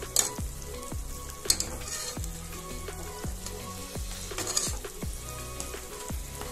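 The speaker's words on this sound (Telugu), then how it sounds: "సో ఇప్పుడు మిగతా హాఫ్ ఆనియన్ కూడా మొత్తం కలిసి ఫ్రై అయిపోతాయి. చూడండి, ఆనియన్ బాగా ఫ్రై అయిపోయింది." Onions frying in a pan with ginger garlic paste for a pressure-cooker chicken curry, a steady close sizzle with periodic scraping strokes of a spoon stirring through the pan, no voices.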